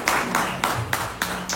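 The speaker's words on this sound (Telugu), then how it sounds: "ఒకసారి మీ గురించి మీరు చప్పట్లు కొట్టుకోండి" A seminar audience at a Vestige business-plan talk claps together in a steady rhythm, about six even, evenly spaced claps in quick succession from a group indoors.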